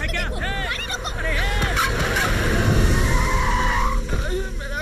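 A car skids hard as it brakes to a stop, a sustained tire squeal lasting a few seconds over loud, agitated voices and crowd hubbub in a dramatic street scene.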